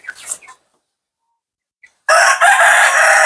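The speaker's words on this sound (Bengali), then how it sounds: "এটা মোরগ মুরগি না, এটা মোরগ।" A rooster at a chicken shop where birds are slaughtered and sold lets out one loud, close crow near the end, after a few brief clucks and a stretch of silence.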